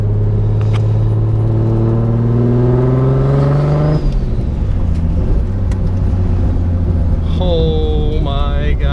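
A self-built Nissan 240SX S14 with an RB26/30 engine pulls away from inside the cabin, its loud engine note rising through a gear, dropping at a shift, then climbing again, with a faint voice underneath.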